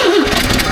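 A 1954 Chevrolet that sat for two decades cranks and catches, its engine turning over loudly and close up. The burst is brief and rough, from a car with a slight exhaust leak.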